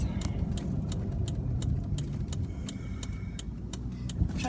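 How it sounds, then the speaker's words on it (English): Steady road rumble and engine hum of traffic heard from inside a moving car on a rural route, with a regular faint ticking running through, like a turn signal, and no talking. "there's a ton of traffic, guys"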